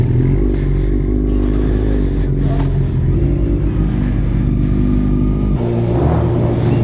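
A motorcycle engine runs close by on a street, loud and steady with revving surges and some clatter, a heavy low rumble filling the whole stretch.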